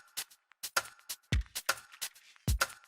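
A garage-style percussion loop sped up to 136 BPM for a future garage track: crisp, clipped hits in a syncopated pattern, a few with a deeper thump underneath, loud and close, with no voices.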